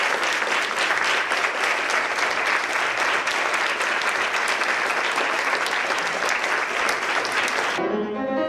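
Dense, sustained applause from a concert audience greeting composer Sofia Gubaidulina, with a steady rapid patter of many clapping hands that cuts off abruptly near the end.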